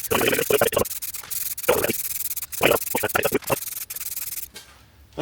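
Lacquer is applied to a car bonnet in close, repeated spraying or rubbing strokes, short rhythmic bursts with brief gaps, ending in a quieter pause.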